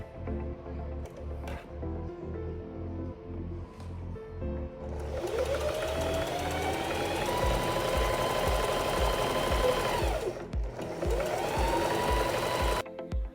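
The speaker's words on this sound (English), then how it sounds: "So I'm gonna start with this side, sew those down, and then I'm gonna start here and then sew it down to the center." Sewing machine stitching fabric for a vintage Mugler dress, two steady running bursts of rapid needle chatter with a brief pause between them, close and fairly loud after a few quiet seconds of handling.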